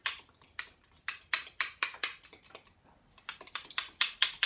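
A spoon stirs a fruit and yogurt parfait mixture in a bowl, making quick, rhythmic scraping clicks close up. The clicks pause briefly partway through, then resume at the same brisk pace.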